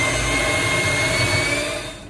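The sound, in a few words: mixing carrot cake bar batter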